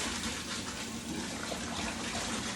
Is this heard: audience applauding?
no